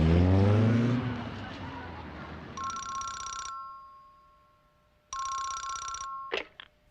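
A telephone rings in a Hindi-dubbed Doraemon cartoon, two clear electronic ring bursts separated by a pause. A voice speaks just before the first ring.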